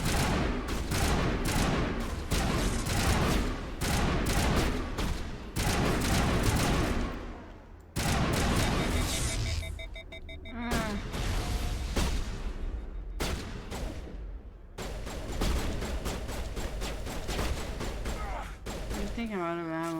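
Gunfire in the video game Mass Effect, with rapid strings of loud, close shots broken by brief pauses, sustained bursts recurring across the stretch and speech heard in places.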